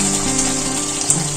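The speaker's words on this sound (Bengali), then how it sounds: "অল্প করে জল দেব।" Water poured into a pan of well-fried spice masala for a vegetarian dish, a steady close rushing stream that runs for the whole moment with no voices.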